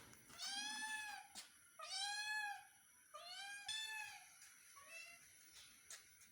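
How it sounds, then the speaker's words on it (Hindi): A hungry kitten meows repeatedly and insistently, four or five drawn-out rising cries close by, the last ones softer, with no talking. "जब इसे भूख लगी होती है तो इसकी म्याऊं म्याऊं सुने"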